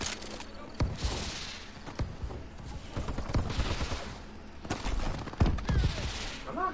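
Rapid bursts of video game gunfire crackle across the whole stretch, with sharp volleys and a couple of louder shots near the end, while a player's voice talks faintly underneath.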